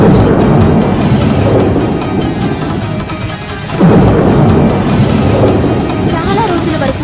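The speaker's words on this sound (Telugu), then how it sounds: "ఆ ప్రజల్ని శిక్షించడానికి ఇంద్రుడు ఒక తుఫాను సృష్టించాడు." Storm sound effect of wind and rumbling thunder, loud and continuous, with a heavy swell of rolling rumble near the middle that then carries on to the end.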